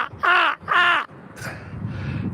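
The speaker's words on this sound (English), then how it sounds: "Look, there's two of my crow buddies." Crows caw outdoors in a park, with two loud, harsh caws close together, followed by fainter rustling and ambient noise.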